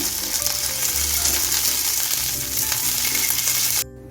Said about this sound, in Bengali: মাথাটা আমি ভেজে নিচ্ছি